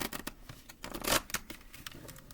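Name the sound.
shuffling tarot cards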